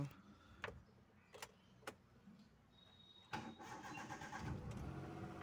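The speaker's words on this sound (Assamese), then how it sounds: "ইঞ্জিনটো আপোনালোকক মই শব্দটো শুনাব খুজিছোঁ। চাওক ইঞ্জিনটো একদম চাইলেণ্ট হৈ আছে।" A Hyundai Eon car has a few sharp clicks and clunks, followed by a quiet, steady engine hum with a low idle rumble close by.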